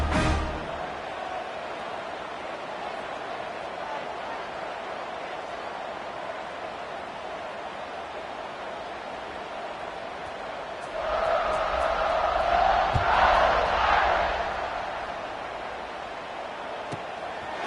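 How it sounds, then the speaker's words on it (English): A football stadium crowd at a Tennessee versus Notre Dame game buzzes after a score. The steady, distant roar swells louder partway through, then settles back to a broad murmur. "this crowd is buzzing after that last score"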